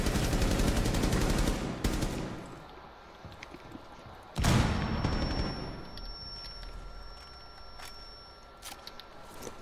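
Rapid bursts of automatic gunfire in the Rainbow Six Siege video game, with a sustained volley followed by a sharp loud report and scattered shots and game sounds, and no talk.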